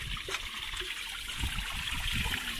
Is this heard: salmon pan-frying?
no